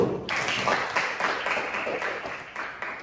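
A high school class applauds together, a brisk burst of many hands clapping in a classroom, fairly loud and steady with a few sharper individual claps.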